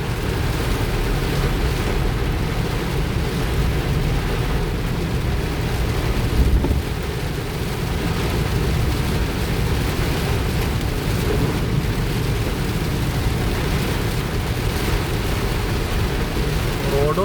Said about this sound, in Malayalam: മഴ അടിപൊളി മഴയാണ്.